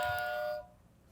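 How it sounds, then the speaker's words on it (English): A ding-dong buzzer chime during a Disney trivia game show, a single bright ringing tone that stops abruptly after about half a second, leaving a quiet room. "I heard the ding dong first, so Brett."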